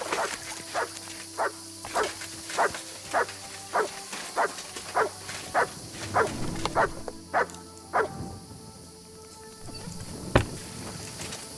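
A dog in Kingdom Come Deliverance II barks steadily at a distance, about a dozen evenly spaced woofs over soft outdoor game ambience, followed by a single sharp thud near the end.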